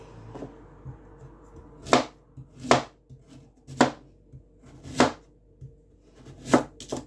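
Sweet potato is diced on a cutting board for Jamaican-style sweet potato pudding, heard as six sharp knife chops at roughly one-second intervals, close and fairly loud with quiet kitchen background between them.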